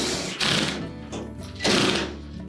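A power driver tightens the screw on the support bracket of a Whirlpool washer, whirring loudly in two strong bursts with a lighter buzz between them. Heard up close, with no talking.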